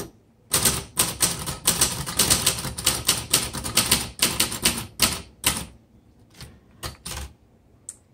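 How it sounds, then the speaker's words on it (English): Rapid, steady keystrokes clatter on a 1973 Facit vintage typewriter with red ribbon selected, close and crisp, with short pauses near the end and no talking. "This is a very smooth typewriter."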